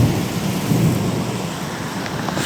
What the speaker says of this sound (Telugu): ఫుల్ ఎదురుగాలి వర్షం గైస్.